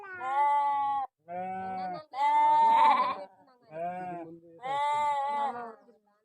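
Sheep bleat loudly and close by in repeated harmonic cries, five calls with short pauses between, as they are caught to be treated for sore and injured legs.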